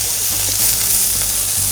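An Angus beef chuck steak frying in a pan gives a steady, loud sizzle and crackle without pause.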